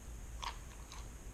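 A couple of close, soft crunchy bites into stir-fried spicy peanut long beans, one distinct crunch followed by a fainter second, over a low steady background hum.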